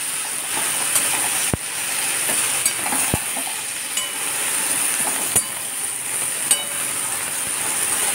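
Red lentils and drumstick flowers stirred in a hot pan, a steady hiss and sizzle punctuated by a few sharp taps and scrapes of the spatula against the metal.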